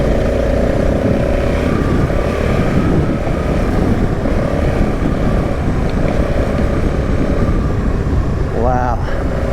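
A Honda Africa Twin DCT adventure motorcycle riding on a gravel road, its engine droning steadily beneath constant wind rush and tire crunch, loud and close throughout.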